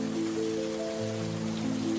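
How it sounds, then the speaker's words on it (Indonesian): Heavy rain pours down steadily in a constant dense hiss, heard alone at moderate level with a low tonal hum underneath. "Hujan makin deras."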